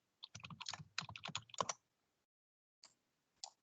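Left mouse clicks and keyboard key presses while working in an Excel spreadsheet: a quick run of crisp, close clicks and taps for over a second, then silence, then two lone clicks.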